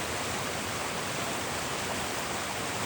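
Creek water in the Smokies rushes steadily and loudly over rocks, a dense, unbroken roar close by with no voices.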